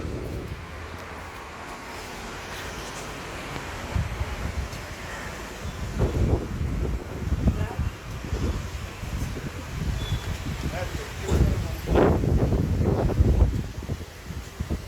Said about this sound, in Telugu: బా ఏం గాలి వస్తుంది.